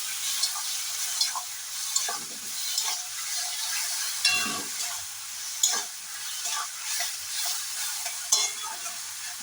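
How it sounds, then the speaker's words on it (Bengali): Ginger paste, green chili paste and garam masala being sautéed in a pan for a vegetarian paneer curry, a steady oily sizzle with intermittent scraping stirs of a spatula, close and continuous. "সাথে দিয়ে দেবো আদা বাটা কাঁচা লঙ্কা বাটা মশলাটাকে বেশ সুন্দরভাবে কষিয়ে নেব"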